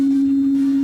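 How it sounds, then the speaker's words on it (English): A binaural two-tone digital drug audio file plays as a single steady, pure low tone with a faint airy hiss behind it, loud and continuous with no talking. "uses binaural or two-tone technology to alter your brainwaves and mental state."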